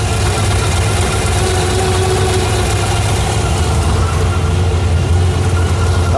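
Cammed Chevy 350 V8 idling in a 1987 Firebird, a steady loud low rumble with a lumpy, uneven lope that keeps on throughout, close up with no voices.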